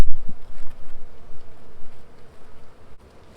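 Honey bees buzz around an opened hive, a close, dense insect drone with irregular swells as individual bees pass near, fading slightly toward the end.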